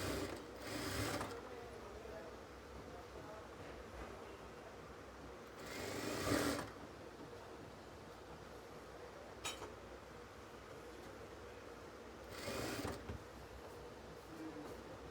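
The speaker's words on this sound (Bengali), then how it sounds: "এখানে যে 1/2 ইঞ্চি পরিমাণ কাপড় রেখেছিলাম ওই কাপড়ের অনুযায়ী আমরা এখানে সেলাই দিব।" Sewing machine stitching the collar band of a kameez, with three distinct short runs of whirring stitching separated by quieter stretches of soft handling noise.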